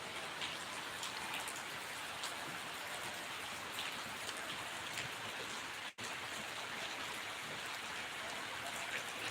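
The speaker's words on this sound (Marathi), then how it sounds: "अचानक पाऊस आला" Sudden rain falls in the dark, a dense, even patter of drops on surfaces that holds steady throughout, fairly soft, with a brief dropout midway and no talk.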